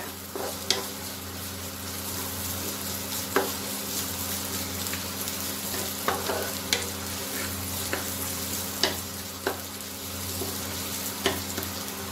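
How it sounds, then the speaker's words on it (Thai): Ginger frying in a pan for a stir-fried sea bass dish, giving a continuous sizzle with several sharp utensil clicks and scrapes spaced through it, no talking. "เคี่ยวขิงให้หอมนิดหน่อยก็พอนะคะ"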